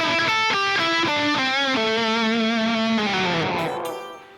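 Electric guitar rips through a fast rock lick, a rapid run of repeated bent and picked notes that slows into a sustained, wavering bend before fading out near the end, played alone and fairly loud.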